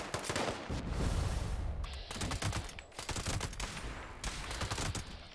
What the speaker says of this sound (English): someone somewhere is shooting at me